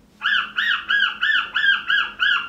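Seven evenly spaced squawking calls from a bird-call whistle imitating a seagull, loud and close, in a steady repeating rhythm with no talking.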